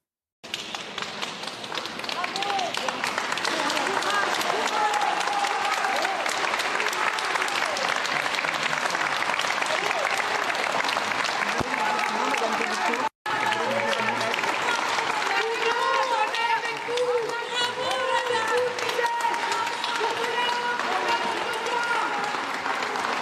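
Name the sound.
people applauding her as she leaves the hearing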